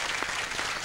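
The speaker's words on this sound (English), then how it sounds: "A clap for Jeremy too." In a 1988 television studio, the audience gives a brief burst of applause for a floor manager, quick and moderately faint.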